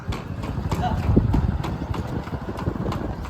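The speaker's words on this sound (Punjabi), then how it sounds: "ਘੋੜੀ ਦੇ ਪੌੜੀ ਸੁਣਦੇ ਆ" Steady rhythmic clip-clop of a mare's hooves on a hard surface, close and moderately loud, with a faint engine hum behind.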